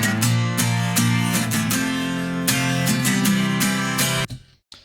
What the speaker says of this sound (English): There's also acoustic guitars in the verse and the chorus part.